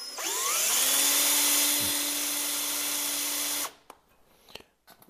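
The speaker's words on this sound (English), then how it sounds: "I hope my drill bit is sharp." A power drill whines loudly and steadily for several seconds as it bores into a thick piece of steel on a 2013 Mitsubishi Fuso FG truck, then stops, followed by a few faint clinks and scrapes.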